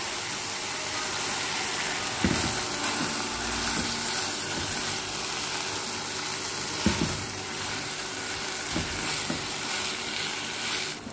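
Water added to cassava leaf lodeh cooking in a pot, a continuous rushing hiss and bubbling sizzle with a few soft knocks of a utensil, no talking.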